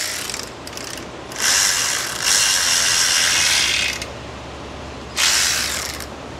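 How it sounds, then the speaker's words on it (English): A 1/4 inch ratchet wrench turns an oily bolt on a Chevy Express 2500 6.0 engine near a hot torque converter, giving loud, close bursts of rapid clicking that stop and start again. "Maybe a 1/4 inch wrench would be a little better off in there."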